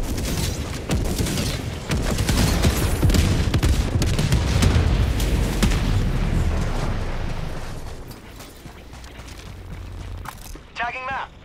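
Grenade blasts and gunfire in the video game Helldivers 2, heavy rumbling explosions and rapid shots packed together over the first half, then fading to lighter bursts, with talk heard over the combat.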